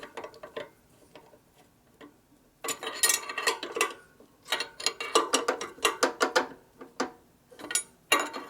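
Lug nuts on a 1965 Harley-Davidson FLH Panhead with a 74-cubic-inch motor are tightened with a ratchet, giving quick runs of metallic clicks and clacks that start and stop in short, close bursts.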